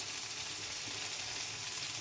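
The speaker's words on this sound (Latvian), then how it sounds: "Cepjam gaļīti." Fish fillets frying in a pan give a steady, close, full sizzle that holds for the whole stretch with no talk.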